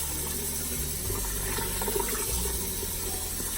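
Tap water filling a pot for pozole, a steady close gush and rumble running throughout with slight shifts in tone as the pot fills.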